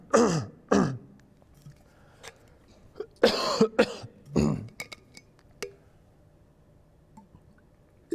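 A person clears their throat twice in quick succession, then a third rougher clearing a couple of seconds later, close and fairly loud, followed by faint clinks and small clicks in a quiet room.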